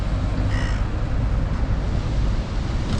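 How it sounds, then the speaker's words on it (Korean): Crows in Hakodate, Japan, heard outdoors: one short harsh caw rings out near the start against a steady bed of wind and surf noise. "저렇게 까마귀들 되게 영리하다니까"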